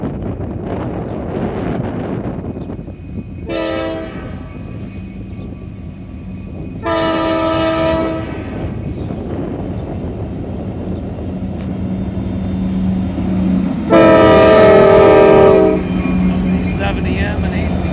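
A northbound freight train hauled by SD70M and SD70ACe locomotives approaches a rail yard entrance and sounds its horn in three blasts, the last loudest, over a low rumble and steady wind noise on the microphone.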